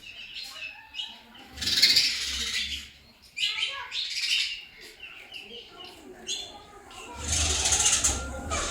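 Small birds in a village chirp and tweet in bright, close bursts that come and go, with brief rustles between calls and no talking.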